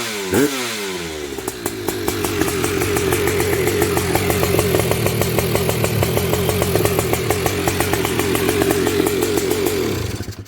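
A high-compression two-stroke engine with a Bosch VR8 EIX spark plug fires up with a quick rising rev, then runs at a loud, steady, buzzing high idle close by for about ten seconds before cutting off.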